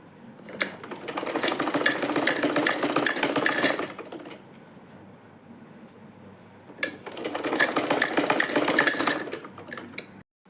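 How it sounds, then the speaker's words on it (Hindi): Sewing machine stitching the zip section of a homemade side purse onto its main panel, running in two steady rapid bursts of several seconds each with a quiet pause between, close and clear, no talking. "यहाँ से इसमें इसको मिलाते हुए हम स्टिचिंग कर लेंगे"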